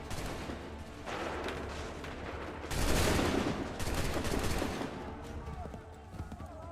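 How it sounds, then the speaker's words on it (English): Musket volley in Assassin's Creed III: a dense, crackling burst of massed gunfire erupts midway and rolls on loudly, with rumbling battle noise and voices in the background. "Shoot!"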